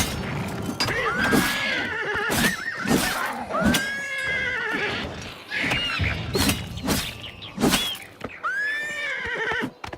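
In a video game, repeated loud horse whinnies and squeals as a bandit fights the horse, close and agitated, with scattered hoof clatter and thumps between them.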